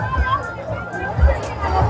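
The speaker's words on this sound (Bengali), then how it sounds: "প্রচণ্ড ভিড় হয়েছে এই কংসাবতী নদীতে" A large crowd gathered on the Kangsabati (Kansai) river in Purulia for Chhath Puja: a dense hubbub of many voices and movement, with one voice speaking prominently in the foreground.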